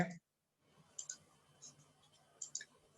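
Computer mouse clicks while drawing center lines in Revit Architecture software, a few quiet, sharp clicks spaced irregularly after a brief silence, close and faint.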